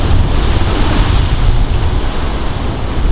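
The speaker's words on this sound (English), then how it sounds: "this is the set rolling through" Rough open-sea waves roll through in a continuous, loud wash of surf mixed with heavy wind noise buffeting the microphone aboard a fishing boat during hoki season.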